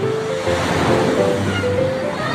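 Sea waves wash onto the shore in a loud, steady roar of surf, close by and continuous, with no talk over it.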